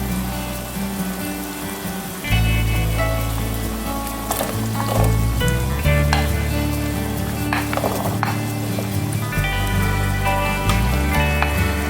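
Celery stalks sizzling in a hot pan for a vegetable shrimp curry, a steady crackling fry that jumps louder as the stalks go in and keeps up a dense, even sizzle throughout.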